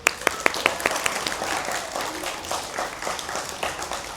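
Children in a rural classroom clap, starting with several sharp individual claps that quickly blend into a brief, fairly close burst of group applause, with no speech.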